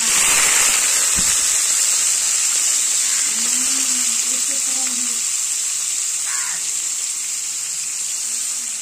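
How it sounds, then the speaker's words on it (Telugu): Drumstick and dried fish pieces frying in hot oil produce a steady, bright sizzle throughout, with faint clinks and a brief low thump near the start and soft background noises underneath. "నూనెలోనే వేయించాలి మెల్లగా"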